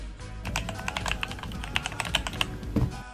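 Rapid clacking keystrokes on a Corsair K70 Core TKL mechanical keyboard, a continuous burst of crisp taps at close range, ending with a heavier thud.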